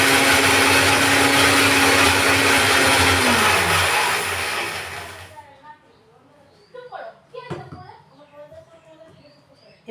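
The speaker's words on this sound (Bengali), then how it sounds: "এবার আমরা মিক্সিতে সর্ষেটা পেস্ট করে নেব।" A kitchen mixer grinder whirs loudly for about five seconds, grinding white mustard seeds into a paste, then winds down and stops, leaving quieter clatter and handling sounds.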